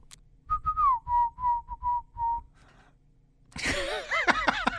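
A person whistles a short tune of about six clear, separate notes, sliding between some of them. A burst of breathy, rustling noise follows after a brief pause.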